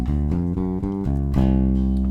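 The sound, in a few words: bass guitar playing blues rock chromatic fill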